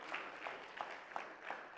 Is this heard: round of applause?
yes